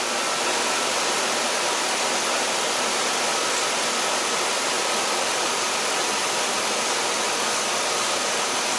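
A car engine idles steadily while its RPM settles, during a check for a misfiring cylinder, giving a continuous, even, loud hum with no talk over it.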